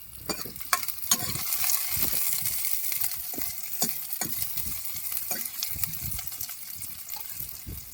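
Chopped onion sizzles and fries in a little oil in a pan at a riverside camper-van cooking spot, with a utensil stirring and scraping in repeated strokes over a steady, close crackling hiss.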